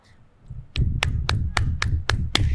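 Several hands clap in a short, sharp burst of about seven evenly spaced claps, close and loud, in a podcast studio setting after a brief quiet lead-in.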